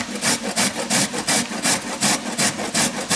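Raw carrot scraped against a coarse grater for a salad, a steady rhythmic rasping with about a dozen quick even strokes, close and fairly loud with no talking.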